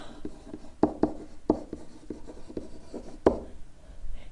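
Marker or chalk writing on a board during a maths lecture: a series of short scratchy strokes and taps in an irregular rhythm, moderately close, with a few sharper knocks, over a quiet room background.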